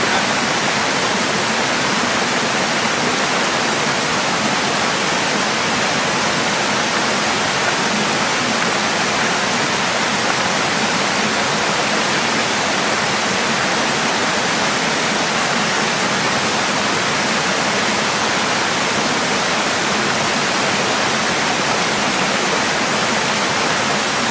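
Cold December stream water gushes along a trail, a loud, close, unbroken roar of rushing water that holds steady for the whole stretch with no voices.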